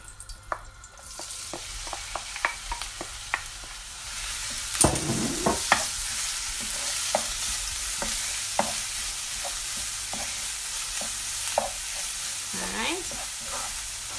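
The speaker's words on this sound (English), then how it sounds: "I'm gonna take my seasonings, and I'm gonna go ahead and saute everything" Seasonings sauté in oil in a pot for a St. Lucian dahl, a quiet start growing into a steady close sizzle at about four seconds, with spoon taps and stirring scrapes scattered throughout and no voices.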